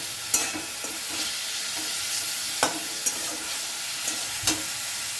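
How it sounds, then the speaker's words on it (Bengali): Chicken pieces stirred in a pan at the start of a chicken soup: a steady close sizzle broken by several sharp scraping clicks from the utensil, with no voices. "চিকেনটা আমি প্রথমে একটুখানি নেড়ে চেড়ে নেব।"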